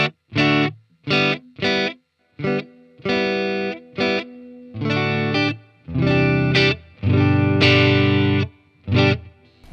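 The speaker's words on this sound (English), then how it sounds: "It's going to be way too much reverb" An electric guitar through a Tonex One clean amp plays short chords and phrases with clear gaps between them, each one thick, distorted and drenched in long reverb.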